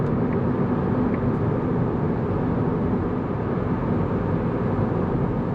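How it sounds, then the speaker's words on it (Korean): Inside a Volkswagen Golf 8 2.0 TDI at speed, wind rushes past the side mirrors in a steady broadband roar mixed with road and cabin noise, continuous and fairly loud without any voices. "80을 좀 넘어서부터는 좀 풍절음이 옆에서 더 사이드미러 쪽에서 확실히 좀 유입이 되긴 해요"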